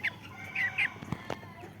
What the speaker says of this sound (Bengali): সব কটা মুরগি স্বাচ্ছন্দ্যে ঘুমায় খেলে খাওয়া দাওয়া করে